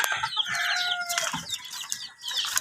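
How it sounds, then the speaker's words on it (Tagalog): Many chicks cheep together in high, overlapping peeps as they beg for food, with busy fowl sounds close by and no talk. "Ay sa daming sisiw. Kanina pa to nanhihingi."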